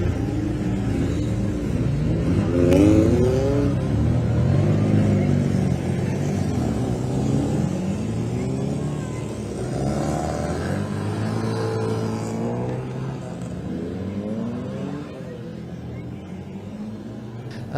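MG Owners Club race cars run at Thruxton circuit, their engines droning and rising in the background beneath continuous commentator speech.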